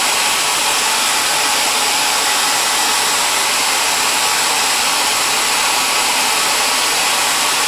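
Close and loud, a hair dryer runs nonstop while warming the edges of carbon wrap applied to Ninebot One electric unicycle pedals, giving an even, broad airy roar with no speech over it.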